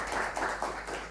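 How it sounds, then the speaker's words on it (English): Audience applause for a professor at an economics investment dialogue event in Ghana, a steady wash of many hands clapping throughout, moderately loud and continuous. "I want us to give a round of applause to Professor Nsafua"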